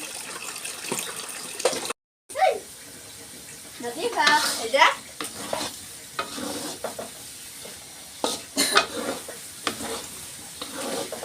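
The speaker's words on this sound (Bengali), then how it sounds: "আমি বিরিয়ানির আলুগুলোকে ভেজে নিচ্ছি" Potatoes frying for biryani, a soft sizzle with intermittent stirring clatter and brief splashing sounds, a short gap near the start, and some background voices.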